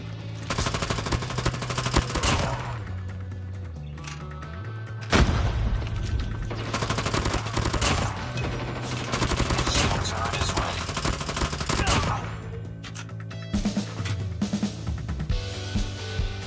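A PDW fires in Call of Duty Mobile in long rapid automatic bursts with a few short pauses between them, loud and close, layered over other in-game gunfire and booms.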